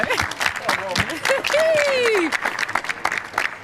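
Footballers applaud a player of the match pitch side after a YouTube match, brief scattered clapping mixed with chatter, shouts and a whistle-like call from a small group nearby.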